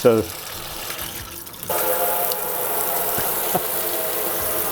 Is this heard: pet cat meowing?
no